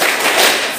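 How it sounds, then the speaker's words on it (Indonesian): Students clap the rhythmic 'tepuk semangat' spirit clap together in a classroom, a dense, loud burst of many hands that stays brief and steady. "Yang kedua tadi tepuk semangat, biar semangat, yang keras"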